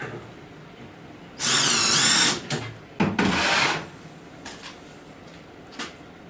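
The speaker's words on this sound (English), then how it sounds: "I always like to drill pilot holes when I can" A power drill whirs in two short bursts drilling pilot holes in wood, the first about a second long, the second briefer, followed by a few faint knocks in a quiet room.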